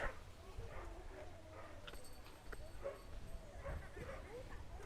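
Barking, yips and whimpers from dogs on a neighbourhood street in Reparto Fanor Urroz, Nicaragua, including a little dog, come repeatedly at moderate distance over steady outdoor background noise.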